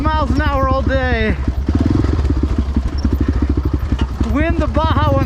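A Honda XR650R dirt bike is ridden in Peach Valley, its single-cylinder engine revving up through the gears and then burbling steadily. The engine is loud and close, with a rider talking intermittently over it.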